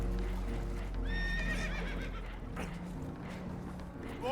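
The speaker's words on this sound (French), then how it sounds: "Horses are spooked, and we're taking on water." Spooked horses in a video game give several shrill neighs and whinnies over a low rumbling background, with clip-clopping hooves, the calls rising and wavering near the middle and again at the end.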